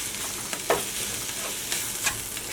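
Red vegetables with water stir-frying in olive oil in a pot, a soft, damped sizzle with a few scraping stirs of a utensil breaking through the steady hiss.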